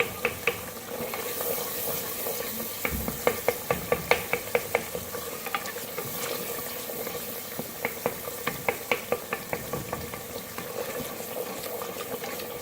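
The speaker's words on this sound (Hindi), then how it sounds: "भूनेंगे थोड़ा सा, टमाटरों को थोड़ा थोड़ा मैश करेंगे।" Onion-tomato masala frying in a pan for aloo baingan while the tomatoes are mashed, with a constant sizzle beneath bursts of quick, repeated spoon taps and scrapes against the pan.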